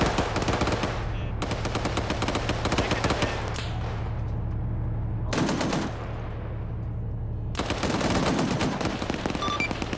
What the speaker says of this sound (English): There's the autocannon of the Bradley now opening up on a few guys.